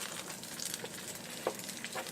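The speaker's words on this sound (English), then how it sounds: "You can hear them sizzling." Beer-battered zucchini fry in hot oil, a quiet, steady sizzle with scattered small pops and crackles throughout.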